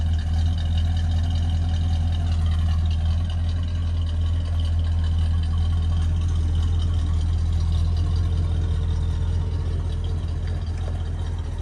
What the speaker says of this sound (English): This is my exhaust reference video, so you can hear how whisper quiet it is.